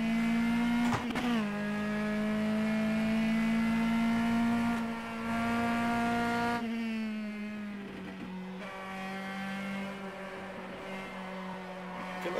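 A race car engine in the Copa Petrobras de Marcas racing game drones loudly and steadily, then drops pitch sharply as it downshifts to second gear, with a second pitch shift later while the engine keeps a close, sustained tone.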